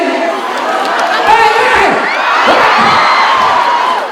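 Audience at a live Churchill Show comedy taping in Kitui cheering for a DJ: a loud, sustained crowd roar of whoops and shouts, with one voice calling out over it.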